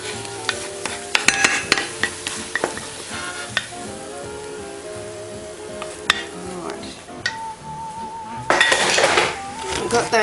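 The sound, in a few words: plating scrambled eggs from the pan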